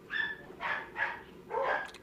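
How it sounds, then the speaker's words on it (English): Dogs bark in four quick, close yaps at an even rhythm, moderately loud with no talking over them. "Who let the dogs in? Who? Shut that noise up, dogs!"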